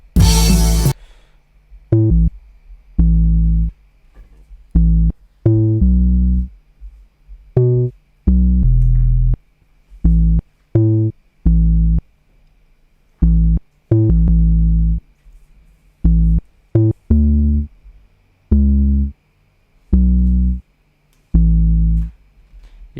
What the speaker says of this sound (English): I played this bass line on my keyboard, and just played it 1 note at a time